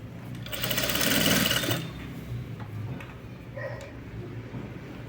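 A sewing machine stitches piping onto cloth, a rapid buzzing run of stitches lasting under two seconds, then quieter handling sounds close by.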